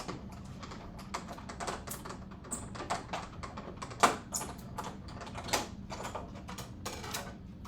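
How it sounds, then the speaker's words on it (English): A manual die cutting machine cuts a paper tree shape for a card: a run of irregular mechanical clicks, taps and ratcheting clacks, close and fairly quiet, with a sharper clack near the middle and no talking. "Come over here to my die cutting machine and cut that tree out."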